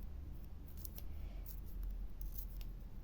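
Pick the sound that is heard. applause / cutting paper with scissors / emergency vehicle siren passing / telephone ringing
cutting paper with scissors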